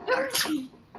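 A single sharp sneeze, close and sudden, followed by a faint trailing breath.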